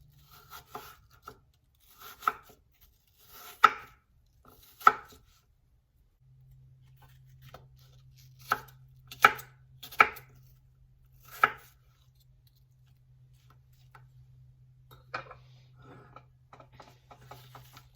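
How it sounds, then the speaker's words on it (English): A knife slices apples thin on a cutting board: crisp, close cuts come in small clusters with pauses between them, while a low steady hum joins partway through and runs under the later cuts. No one talks. "here I have my apples that I'm going to slice up really thin"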